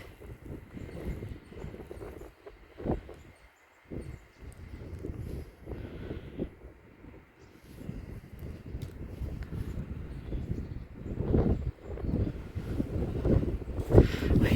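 Strong gusty winter wind during snow clearing buffets the phone microphone in heavy, uneven rumbling blasts that rise and fall, growing rougher toward the end.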